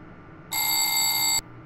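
Warning bell of the BB 26227 locomotive in Train Simulator 2020 rings as one steady electric tone, loud and close, lasting about a second over quiet cab hum, then cuts off abruptly.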